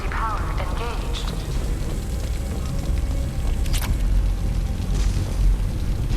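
Explosion in the sci-fi video game Illium, a sustained rumbling blast with low roar and scattered debris crackle filling the whole stretch, steady and loud without clear individual hits.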